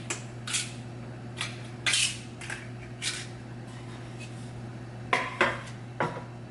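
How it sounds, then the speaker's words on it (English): Batter is spooned into paper and foil cupcake liners set in a cupcake pan, giving scattered light clinks and taps of spoon against metal at close range over a steady low hum, with no talking. "now I'm actually ready to start putting the batter into the little cupcake paper and foil"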